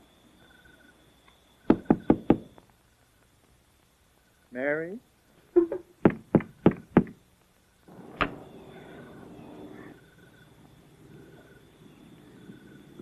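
Two bursts of four sharp, close knocks on a door, separated by a brief spoken call, followed later by a single louder bang and a rustling fade in a quiet indoor space.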